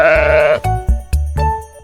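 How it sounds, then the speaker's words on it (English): A sheep bleats in a long wavering cry, followed by several short clipped bleats in an uneven series, loud and close, with a regular percussive beat running beneath it. "Sheep."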